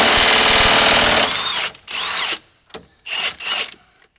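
An impact wrench removes a bolt from a John Deere 8700 kernel processor, a loud sustained burst followed by several shorter rattling bursts in quick succession, close up with no talk.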